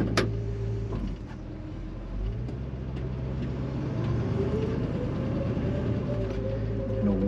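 A 1966 Ford Mustang GT clone convertible with a 289 V8 drives along on a warm day with the top down, its steady low engine rumble rising slightly as it pulls away, with road and wind noise throughout.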